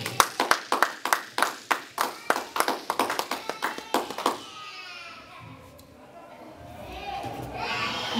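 A church congregation claps in a steady rhythm, many hands striking together in sharp regular bursts for about four seconds, then the clapping stops and a quieter room murmur with faint voices remains.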